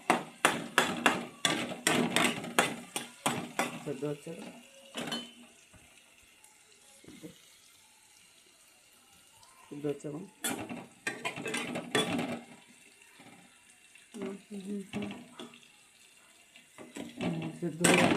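Boiled pasta being stirred in a pan gives bursts of close clattering and scraping of a utensil against metal, broken by quieter stretches and some muffled voice.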